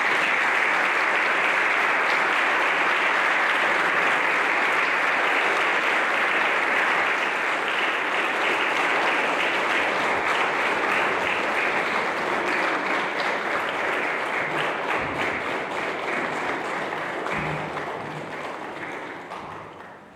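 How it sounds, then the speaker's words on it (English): An audience at the Miss Hummelstown 2021 pageant claps steadily and loudly for the contestants for about seventeen seconds, and the sound then tapers off as the applause dies away. "why don't we give them a round of applause?"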